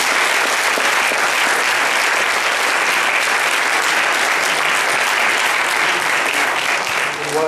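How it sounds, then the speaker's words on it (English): Loud, dense applause from an audience at a creationism debate, thanking both debaters; continuous close clapping that holds steady for several seconds before easing slightly at the very end. "can we have a round of applause for both of our debaters?"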